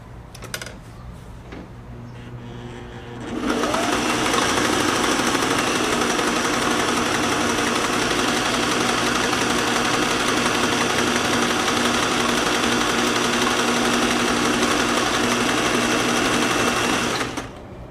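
A Singer 503A sewing machine runs a stitch test, with a few light clicks first and then a loud, steady rapid whir and clatter of the motor and needle for about fourteen seconds before it stops, close up and alone.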